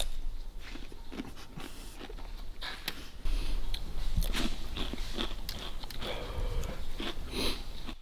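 A dog crunches and chews food at close range, with irregular bites, sniffs and mouth noises running throughout; the sound grows a little louder partway through, and faint background noise sits underneath.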